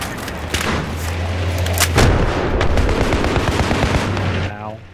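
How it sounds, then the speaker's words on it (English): Rapid gunfire and heavy blasts from a Battlefield 3 video game battle, a loud dense barrage of shots that stays steady throughout with little pause. "He was single shotting me with the M16."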